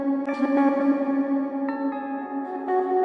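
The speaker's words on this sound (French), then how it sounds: "je vais rajouter des effets dessus" A sustained vocal tone drenched in maximum reverb, notes smearing and hanging into a long echoing tail, with a few swelling shifts in pitch.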